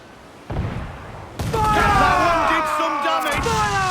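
Pirate ship cannons fire in a naval battle in Assassin's Creed 4, with booming broadside blasts under shouting crew voices and a rising, wavering tone layered over the rumble.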